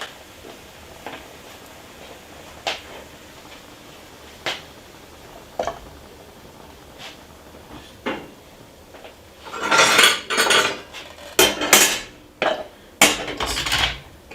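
A spoon scrapes and clinks against a pot and bowl as keto pot pie is served over pecans, first with scattered single taps and then a denser cluster of loud scrapes and knocks.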